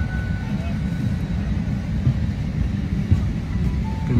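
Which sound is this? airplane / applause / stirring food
airplane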